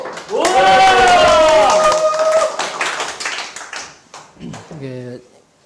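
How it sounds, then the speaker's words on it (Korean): A Korean seminar audience welcomes a guest speaker with a burst of loud, sustained hand clapping that gradually thins into scattered claps while someone speaks over it and then continues talking. "자, 박수로!"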